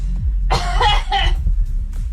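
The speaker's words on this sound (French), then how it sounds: "elle tousse toujours comme ça" Two harsh, close coughs in quick succession over a low background rumble.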